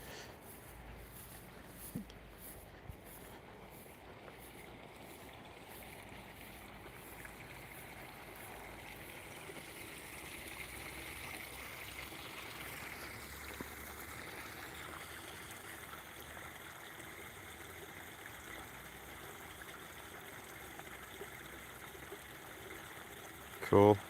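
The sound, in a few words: creek stream flowing water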